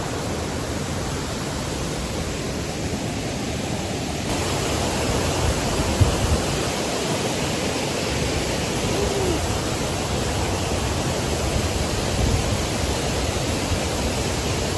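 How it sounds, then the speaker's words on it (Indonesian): The Sarambu Ponglo waterfall in Toraja roars as a steady, dense broadband rush of falling water, loud and continuous throughout, with no talking. "kita akan mencoba mengeksplor air terjun Sarambu Ponglo"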